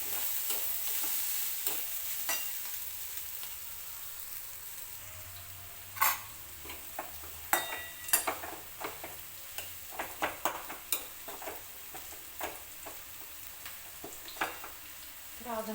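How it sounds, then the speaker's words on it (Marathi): Onion fries in a pan in a home kitchen, giving a steady soft sizzle broken by sharp clicks and scrapes as a utensil stirs it. "कांदा पण चांगला तळायला घेतलाय"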